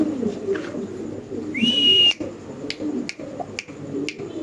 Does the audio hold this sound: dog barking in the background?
no